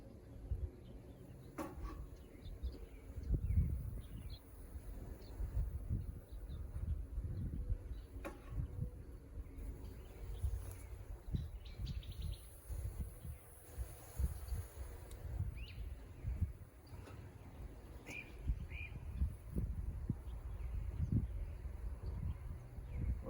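Honeybees buzz around an open hive during a May inspection, a steady low hum of many insects near and far, with occasional rustles and faint bird calls behind.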